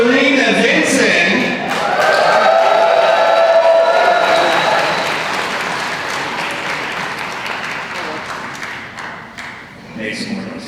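Convention audience at a fan event applauding and cheering loudly, a dense wash of clapping with shouts that swells early, then gradually thins and fades, while an announcer's voice urges them on over it.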